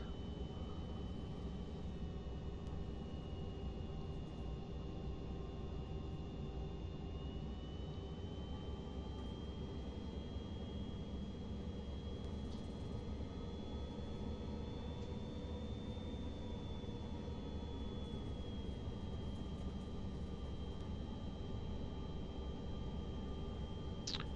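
A Cirrus Vision Jet taxiing in X-Plane 11, its turbine giving a steady, close whine and rumble, with a high tone that slowly rises and falls. No voices over it.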